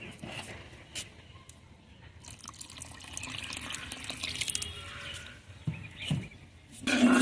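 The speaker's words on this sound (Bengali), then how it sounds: "আর একটু পানি দেব" More water added to a pan of taki fish curry with tomato and potato, a faint running trickle that builds into louder splashes and a final bright gush, nearby with no voices.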